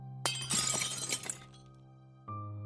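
A small object falls and shatters on a stone floor: one sharp crash with bright glassy breaking and scattered tinkling fragments, fairly close, over a low steady hum, after which it goes quiet.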